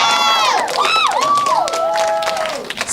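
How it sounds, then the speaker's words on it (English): An event audience cheers and shouts with high, excited voices and scattered clapping in a brief, lively burst of crowd noise. "Let's give them a big round of applause."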